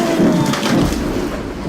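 Thunder from a lightning strike that crushes a tree, a loud rumbling crash with splintering texture that rolls on steadily for a couple of seconds, heard alone without talk.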